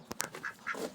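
Ducks at a vegetable garden quack several times in quick succession, fairly near and moderately loud, with no voices.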